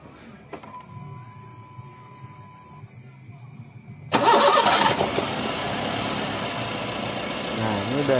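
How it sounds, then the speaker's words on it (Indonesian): A Honda Brio engine with a misfire cranks and catches at about four seconds, then settles into a loud, uneven idle that carries on to the end; a faint tone and quiet background come before it. "hidupin mesinnya."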